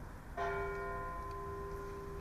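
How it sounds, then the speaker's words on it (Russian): A single deep bell strike from the Spasskaya Tower of the Kazan Kremlin rings out from a distance, its tone sustaining and slowly fading over a quiet background hum. "Теперь мы сможем увидеть и услышать малиновый звон Спасской башни."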